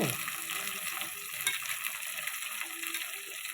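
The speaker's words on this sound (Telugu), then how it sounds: "టమాటా కొద్దిగా మగ్గాలి నూనెలో" Tomatoes cook in hot oil in a pan for an eggplant-tomato curry, giving a steady bright sizzle with occasional stirring scrapes, close and continuous.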